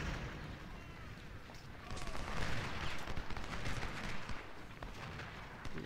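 Massed musket volleys and artillery fire from an American Civil War battle at First Bull Run, a continuous crackling roar of distant gunfire with dull booms throughout, no voices.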